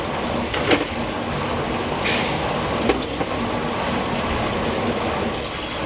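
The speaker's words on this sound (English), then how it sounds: "Basically gonna pump out the water." Water gurgles and rushes steadily as it is pumped out of a 2020 Seneca 37K motorhome, a continuous churning wash with a few brief knocks and splashes.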